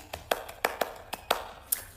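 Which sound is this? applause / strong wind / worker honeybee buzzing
applause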